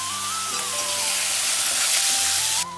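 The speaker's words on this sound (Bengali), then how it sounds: "ভালো করে নাড়াচাড়া করতে হবে।" Ground coriander, chili and turmeric powder with salt sizzle steadily in a hot frying pan as they are stirred. The close, continuous hiss is joined by faint scraping and a soft tonal whine in the background.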